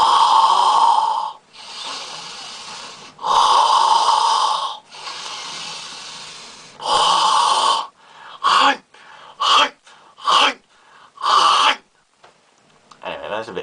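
Fire breathing exercise: forceful, rhythmic breaths, first several long sustained exhalations, then a run of short sharp puffs, close to the mic and loud against quiet pauses.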